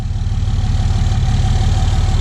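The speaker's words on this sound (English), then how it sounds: "Truck's got quite the exhaust on it, huh?" A 2004 Dodge Ram 2500 diesel truck idles with a loud, steady exhaust rumble and low throbbing pulses, close by and continuous, with no talking.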